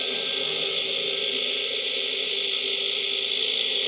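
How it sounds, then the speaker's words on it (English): A drill bores a small pilot hole with a 1/16 bit into the hood hinge area of a 1965 Chevrolet C10, a loud, steady high-pitched whir that holds unbroken from start to finish. "I like to drill a little pilot hole with like a little 1/16 drill bit"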